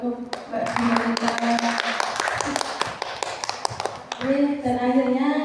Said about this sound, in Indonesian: Beri tepuk tangan buat Mbak Dinamita